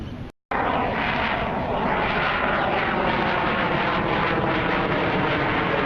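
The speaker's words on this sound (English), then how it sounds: "Got jet noise today." A jet aircraft passes overhead at a beach on a big-surf day, a continuous broad roar that fills the whole clip after a brief gap near the start, with no talking.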